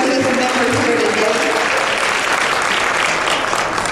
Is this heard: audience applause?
yes